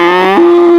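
A single cow gives one sustained, close, loud moo with a steady tone that shifts pitch slightly partway through, standing alone against a quiet background.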